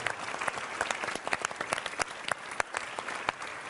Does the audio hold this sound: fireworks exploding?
no